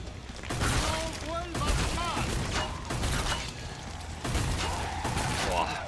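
Shotgun blasts in the gory zombie shooter Killing Floor 2 on Xbox One, several loud booming shots spread across the stretch amid constant chaotic game noise and clattering mechanisms, with a voice talking over parts of it.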